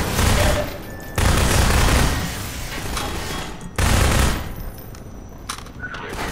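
Loud bursts of automatic gunfire aimed at the player in Half-Life 2, two heavy sustained volleys separated by quieter stretches, with scattered shots and rumble in between.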